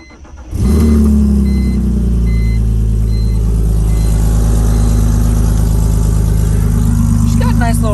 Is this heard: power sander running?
no